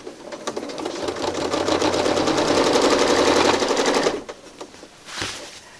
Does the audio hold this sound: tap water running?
no